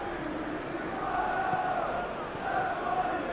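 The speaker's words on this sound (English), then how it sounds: "The crowd are calling for this to be put to bed." Simulated football crowd from an Aston Villa versus Manchester City Premier League match, a low, steady murmur of massed voices swelling slightly in places, with no clear individual words.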